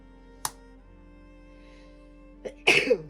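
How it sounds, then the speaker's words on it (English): A single sneeze bursts out near the end, preceded by a couple of small clicks and breaths in an otherwise quiet room. "Excuse me, I had to sneeze."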